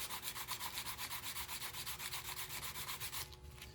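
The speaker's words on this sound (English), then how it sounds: "let's sand it real quick." Scrap wood candle holder being hand-sanded with a block sander: steady rhythmic back-and-forth rubbing strokes, faint and close, with no talk.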